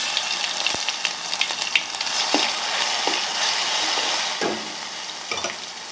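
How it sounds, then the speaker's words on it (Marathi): Green chillies tempering in hot oil for kadhi, a steady close sizzle with occasional stirring clicks and pops throughout, no voices. "कढी फोडणी द्यायची"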